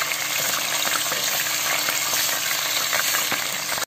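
Meat pieces frying in hot oil in a home kitchen, a loud, dense and steady sizzle with fine crackling throughout and a few small clinks.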